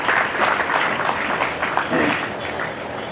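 An audience at a memorial sports meet on a ground claps loudly together, dense steady applause from a crowd that carries on for several seconds with no break.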